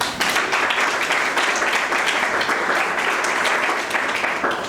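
A large crowd at a university leadership event claps in loud, dense, continuous applause that stays strong for several seconds, with no voice over it.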